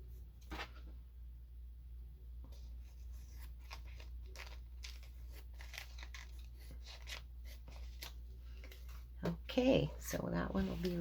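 Scissors snip a paper shaker journal card: small scattered cuts and crisp paper rustles, close and quiet over a low background hum, with brief rustling and handling noises near the end.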